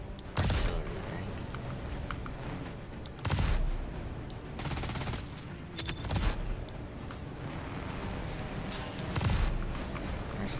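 Tank gunfire in the Trailmakers video game, several heavy booming shots spaced a few seconds apart over a constant rumbling battle background, with occasional faint talk.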